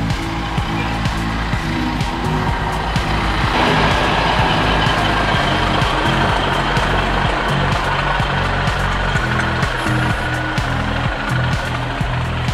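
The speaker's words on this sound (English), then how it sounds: "The tow truck's here." A heavy tow truck arrives to tow a 16,000-pound Class A RV on a road, its diesel engine rumbling loud and steady throughout, with reversing beeps and brief air-brake hisses over the idle.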